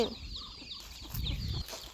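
Chickens cluck in short, soft bursts nearby on a farm with ducks, with a louder low rustling patch midway through.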